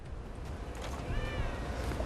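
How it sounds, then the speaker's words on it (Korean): A cat meows faintly in a building, a single thin cry rising over low background rumble and noise. "고양이 소리."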